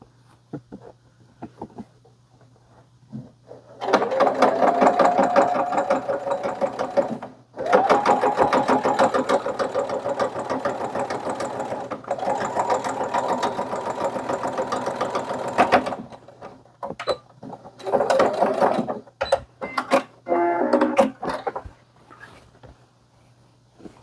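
A sewing machine stitches a 30 by 30 tote bag at a 0.2 mm stitch, running loud and close in long steady whirring bursts broken by short pauses and stop-start runs, with no one speaking over it.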